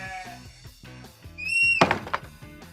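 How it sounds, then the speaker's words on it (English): A cartoon sheep bleats once in a kids' 3D farm animation, a short clear baa near the end over light bouncy background music. "Did you hear a baaing noise?"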